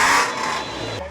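A seven-seat car's engine strains at full throttle on a motocross track, a loud steady drone from the cabin that eases off slightly toward the end.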